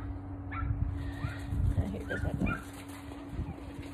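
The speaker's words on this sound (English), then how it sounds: "there's somebody here with small dogs" Small dogs whimper and yip softly amid quiet indoor background noise, with a person talking briefly at times.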